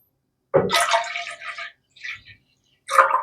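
Water poured from a container into a soup pot for a healthy congestion-fighting soup, heard as a splashing pour followed by a few shorter trickling bursts and a final splash.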